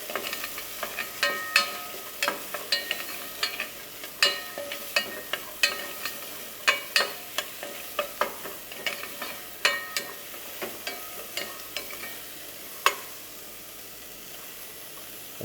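Aromatic vegetables sweating in fat in a pan, a soft low hiss broken by frequent small pops and crackles at irregular intervals, close and fairly quiet.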